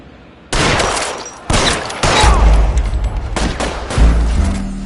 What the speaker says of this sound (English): All units, shots fired, officer needs help.